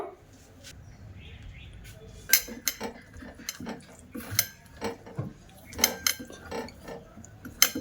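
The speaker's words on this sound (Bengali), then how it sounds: "এবার ওতে একটু তেল ব্রাশ করে নেব" Two steel bowls being oiled with a brush while preparing pea idli batter, giving a run of sharp metallic clinks and light scrapes at irregular intervals, close up, with a voice talking now and then.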